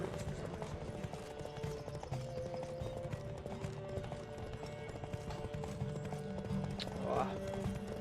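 A horse gallops in The Witcher 3 video game, a steady close clip-clop of hooves over a low game soundscape, with a brief whinny near the end.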